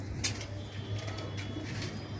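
Pigeons coo softly at a pigeon farm in Nabadwip, a low steady murmur of cooing from birds perched in a row, with faint ambient noise around them.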